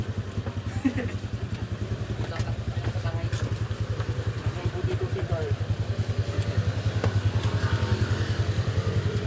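A motorcycle engine idles and runs nearby with a steady low rumble and rhythmic pulsing throughout, while people talk over it.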